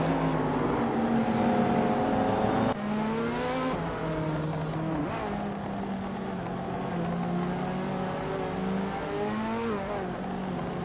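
A 1993 Vector W8 race car in a racing video game drives continuously with a loud, steady engine drone whose pitch rises and falls through gear changes, close and alone without talk.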